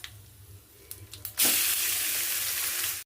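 Chutney is tipped into a hot tempering of dried red chilies, turmeric and curry leaves, setting off a sudden loud, close sizzle that holds steady for well over a second after a few quieter crackles.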